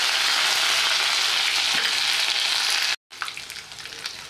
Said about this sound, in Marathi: आपण तेलात फोडणीला घालूया जिरं, हिंग, कढीपत्ता आणि दरदरीत कुटून घेतलेलं आलं लसूणची पेस्ट